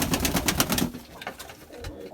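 Pigeons being readied for breeding, cooing close by with a slightly wheezy, hoarse edge in cold damp weather; a dense run of soft calls in the first second, then quieter scattered coos.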